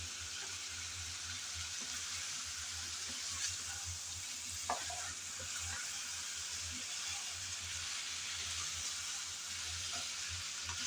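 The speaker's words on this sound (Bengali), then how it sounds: "ভালোভাবে কিছুক্ষণ সময় ধরে করলা কষিয়ে নিলাম, কাঁকরোল কষিয়ে নিলাম চিংড়ির সাথে" Spiny gourd and shrimp stir-frying in a pan for a spiny gourd curry, a steady close sizzle with occasional soft clicks of a spatula stirring through, no voices.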